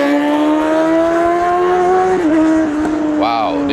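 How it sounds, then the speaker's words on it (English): A loud motorcycle engine passes close by on an outdoor street in France, a steady drone that shifts pitch as it goes by, with a brief rising rev near the end. "did you guys hear that motorcycle? It was very loud."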